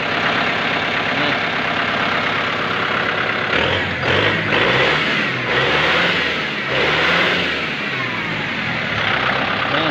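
A 2023 Kubota M6040 tractor's diesel engine revs up and down close by, the loud rumble rising and falling in pitch over a steady running drone.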